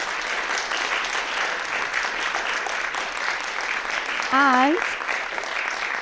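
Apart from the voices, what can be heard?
applause for the panellists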